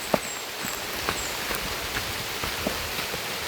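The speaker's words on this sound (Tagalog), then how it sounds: "Abutan kami ng malakas na ulan." Heavy rain falls outdoors as a dense, steady hiss, with a few sharper drop taps scattered through it and no voices.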